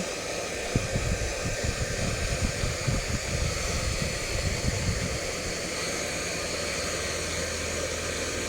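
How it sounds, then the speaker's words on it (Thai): A hair dryer blows steadily on a dog's wet fur after a bath, a loud, constant whooshing roar with rustling fur and handling noise in the first half, then a smooth, even airflow. "จับมาเป่าขนให้แห้ง"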